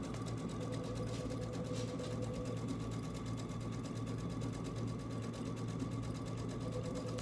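An embroidery machine stitches an untrimmed grass-stitch design for candy corn coasters, a steady rapid mechanical whir with fast needle ticking that runs continuously and evenly, close up, with no talking.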